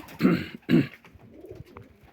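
Van pigeons coo twice in close succession, two soft, throaty low calls about half a second apart, then quieter rustling and faint background noise on a cool day.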